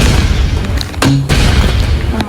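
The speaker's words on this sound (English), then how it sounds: "I'm still practicing my nade launcher" Grenade launcher blasts from the video game Marvel Rivals, a loud dull boom in the middle amid busy game noise, with fainter pops before and after.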